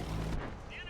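A tank's main gun fires in World of Tanks on console, a single loud low blast with a broad crack that rings briefly, then game noise carries on.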